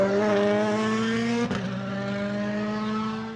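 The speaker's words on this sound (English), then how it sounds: "vigorously warming his tyres this morning" A WRC rally car on a cold morning at Rally Croatia revs hard with a strained, sustained engine note while warming its tyres, close and loud, with a brief sharp break midway.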